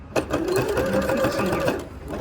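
A sewing machine stitching and backstitching a seam on a fabric bread basket, running steadily and close by with a continuous whirring drone throughout.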